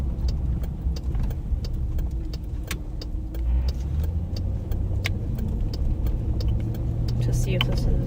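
A police patrol car drives around, its engine giving a steady low rumble from inside the cabin, with scattered clicks and small interior noises and a faint tone rising near the end.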